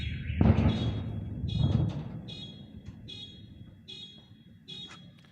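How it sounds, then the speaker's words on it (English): A car alarm chirps in a steady repeating pattern in the distance, following two heavy thumps at the start. "We can still hear a car alarm going off"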